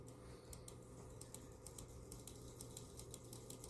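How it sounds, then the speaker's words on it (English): Rapid, faint clicks in a steady rhythm, about three per second, heard alone over a low background hum, from a computer mouse. "I like this clicking sound so fast."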